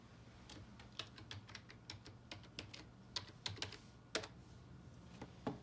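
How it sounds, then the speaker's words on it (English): A computer keyboard clicks as a password is typed in, quick irregular keystrokes with a few harder taps, quiet and close in a calm room. "You type in the password."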